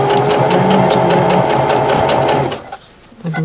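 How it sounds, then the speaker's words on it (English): A sewing machine stitches ribbon onto a garment bag in a fast, loud, rhythmic run for over two seconds, then slows and stops briefly before starting again. "I'm just sewing along the edge of the foot"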